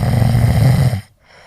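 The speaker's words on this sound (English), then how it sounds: "snoring like a broken generator on her bed" A man snores loudly on a bed with a harsh, rumbling rasp like a broken generator, one sustained snore of about a second that stops abruptly.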